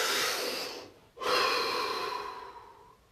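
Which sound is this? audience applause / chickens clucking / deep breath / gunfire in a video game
deep breath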